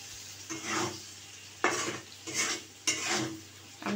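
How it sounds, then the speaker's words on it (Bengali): Peeled prawns stir-fried in spice paste, a spatula scraping the pan in four rhythmic sweeps with a soft sizzle underneath, close and moderately loud, with no voices. "চিংড়ি মাছগুলো আমি ভালোভাবে একটু কষিয়ে নেব।"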